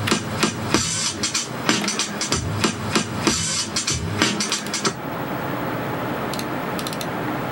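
A sampled drum break with snare plays as sharp, punchy hits in a loose groove, loud and close, then drops away into a duller, quieter texture with a few faint ticks.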